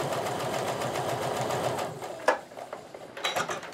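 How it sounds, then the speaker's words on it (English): Sewing machine running a steady 1/4-inch seam to join fat-quarter pieces of a patriotic quilt, a fast even rattle for about two seconds that then slows and stops in a few uneven bursts. "So I'll just sew that one on."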